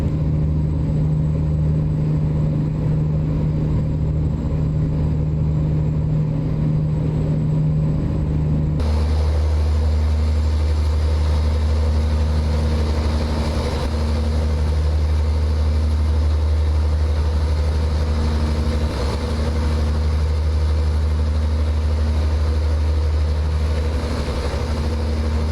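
A truck engine idles in American Truck Simulator, a steady low drone humming continuously, shifting partway through to a deeper, heavier rumble that holds without pause.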